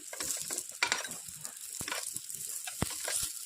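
Stuffed bitter gourds sizzle in a hot pan of oil after being turned over, giving a steady close hiss broken by a few soft clinks and scrapes of a spatula against the pan.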